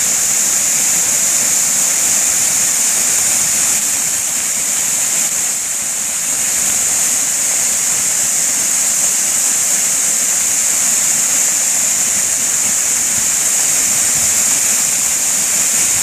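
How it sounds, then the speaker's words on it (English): A steady, loud rush of falling water from a waterfall on a rainy winter day, constant and close, with no other sounds or voices. "this is a good waterfall today"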